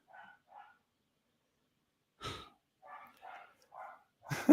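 A dog shut in a basement barks in short muffled bursts, a pair of quiet barks, a pause, then louder scattered barks at a distance with no talking.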